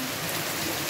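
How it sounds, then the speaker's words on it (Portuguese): Heavy rain drums on the roof tiles above a covered porch in rural Ceará, a thick steady wash of impacts heard up close and loud, without any talk. "Dá pra você perceber aí pelo batido da chuva nas telhas, no telhado aqui"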